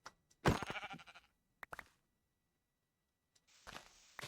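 A sheep bleats in a block-building video game, short bursts near the start, followed by brief taps and a quieter sound toward the end.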